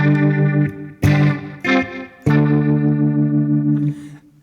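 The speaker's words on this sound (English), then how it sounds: "the roto speaker, which is kind of fun" An electric guitar plays chords through an Avid Eleven Rack amp modeler's rotary speaker effect, loud and close, with the tone wobbling and several strums ringing out.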